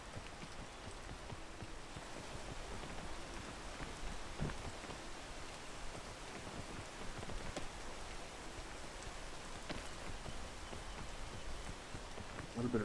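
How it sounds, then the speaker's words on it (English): Rain falls steadily in the Minecraft video game, a dense, even patter that stays at the same moderate level throughout. "And it's raining."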